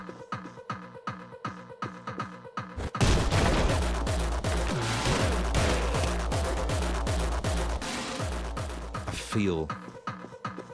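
Rapid gunfire from a video game demo bursts in loudly after quiet rhythmic music, a dense sustained volley lasting several seconds before the music returns.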